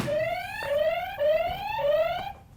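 A loud electronic buzzer sounds four times in a row, each blast a short rising tone repeated at an even pace, alone with no talk.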